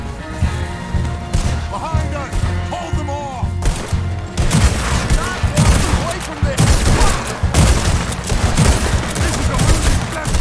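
Gunfire in the video game Red Dead Redemption 2 during a bear attack, rapid loud volleys of shots and bursts crackling throughout, with someone talking excitedly over the shooting.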